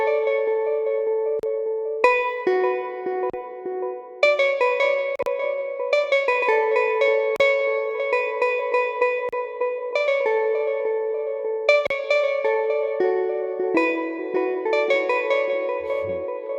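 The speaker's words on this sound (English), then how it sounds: "Then I get this lead instruments for this pattern." A synthesized lead instrument plays a repeating melodic pattern in an FL Studio beat, with bright, effect-laden notes carrying echo and reverb in a loud, steady loop.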